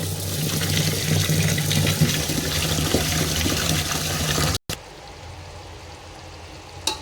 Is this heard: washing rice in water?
yes